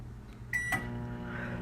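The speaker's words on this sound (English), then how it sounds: "Alexa, microwave for 2 minutes and 45 seconds." Alexa-controlled microwave oven: two short electronic beeps, then the steady low hum of the oven starting to run, close by.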